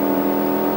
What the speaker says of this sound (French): Ah, il y a un petit coup de turbo.